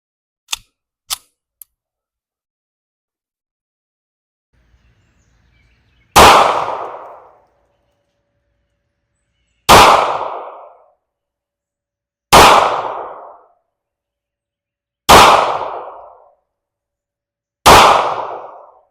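Five loud, close pistol shots from a 1911 fired at a target, spaced a few seconds apart, each a sharp crack with a short decaying tail, after a few faint clicks of handling.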